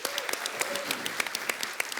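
A studio audience on a comedy show applauds the director Meher Gulati, a brief, dense burst of steady clapping with sharp individual claps standing out, heard up close with no voices over it.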